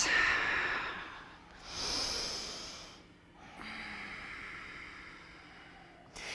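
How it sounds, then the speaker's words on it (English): Deep, slow breaths during a yoga class, a few long nasal inhales and exhales with audible air rushing, close and soft, alone without talking. "Two more breaths."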